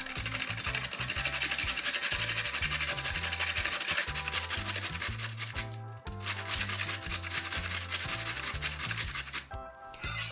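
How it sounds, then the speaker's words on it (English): A carrot is rubbed rapidly against the large holes of a box grater, a steady close rhythmic rasping scrape with brief pauses, and no one talking. "Grate the carrot on the large holes of a box grater."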